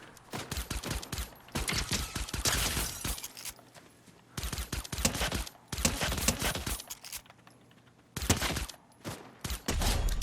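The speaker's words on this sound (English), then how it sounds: "someone else is shooting at me" Fortnite gunfire comes in loud, close clusters of rapid shots, several bursts separated by short pauses across the stretch.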